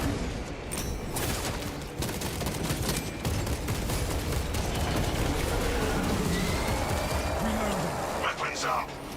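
Sustained gunfire barrage in the Warhammer 40,000 video game, dense rapid shots rolling on for the whole stretch, loud and continuous with a few heavier booms mixed in.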